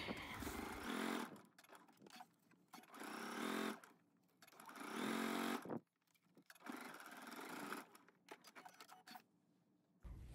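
A sewing machine runs a seam at a 5/8-inch allowance for McCall's M8380 pattern, heard as quiet, uneven bursts of motor whir and rattle that start and stop several times.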